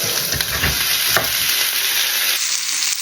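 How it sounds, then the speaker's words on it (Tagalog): Sliced vegetables sizzle and fry in a hot pan for a beef burger meal, a steady loud hiss with stirring scrapes early on, the sizzle thinning near the end. "Ilagay naman natin itong mga nahilang gulay."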